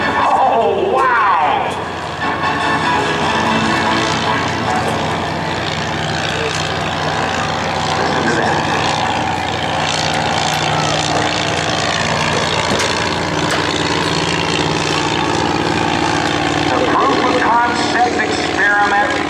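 Vintage 1911 Curtiss pusher biplane flying at a naval air station airshow, a loud steady propeller-engine drone that persists throughout, with a person talking over it.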